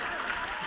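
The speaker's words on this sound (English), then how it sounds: "I'll give you a hand clap" A brief burst of hand clapping, dense and close, lasting under a second with no voices over it.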